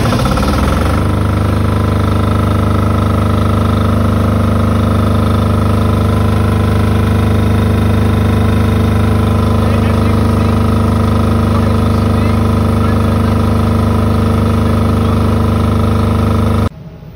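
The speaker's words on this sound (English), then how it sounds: "Now I'm going to start the DC generator." A diesel DC generator engine runs steadily for most of the clip. It holds a loud, close, even drone with a rough rumble and vibration, then cuts off near the end.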